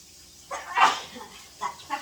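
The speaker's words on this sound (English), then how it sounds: "For some reason when I measure out black pepper, I sneeze." A single sharp sneeze, triggered by measuring out black pepper, bursts out near the start, followed by a couple of softer breathy sounds.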